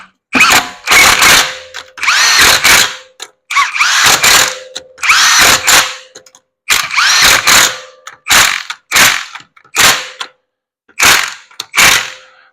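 An impact wrench fitted with a torque stick and a 19mm socket tightens lug nuts on a 2011 Ford Explorer. Loud, rattling hammering bursts of one to two seconds repeat with brief pauses between them, then several shorter bursts close the run.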